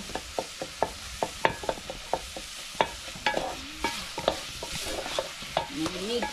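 Meat cooking in a pan without oil over an outdoor fire in an African village, a soft dry sizzle broken by regular sharp scrapes and taps of a utensil stirring, fairly close and quiet, with no talk.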